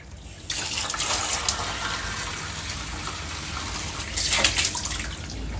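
Water runs steadily from a tap during face washing, a close, continuous rushing splash that swells louder near the end, with no voices.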